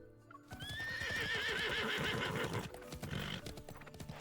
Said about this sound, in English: Galloping like this